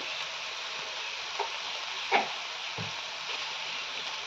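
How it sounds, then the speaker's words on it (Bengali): Spices such as chilli and turmeric powder being stirred in a hot frying pan for potol prawn curry, a steady close sizzle with a few soft scraping taps of the spoon. "দিয়ে এটাকে মশলাটাকে এবার নেড়ে চেড়ে নেবো ভালো করে।"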